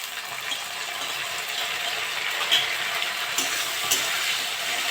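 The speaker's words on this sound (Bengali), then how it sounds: "পেঁয়াজটা একটু ভাজা ভাজা হয়ে গেছে, আমি এবার চিংড়ি মাছগুলো দিয়ে দেবো" Prawns fry with onion in a pan for a Bengali taro-leaf dish. The sizzle is loud, steady and close, with a few sharp clinks of a utensil against the pan.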